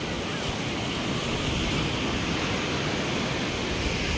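Sea waves at high tide on Velneshwar beach on the Konkan coast wash in as a continuous broadband roar of surf mixed with wind, steady and fairly loud throughout with no clear voices.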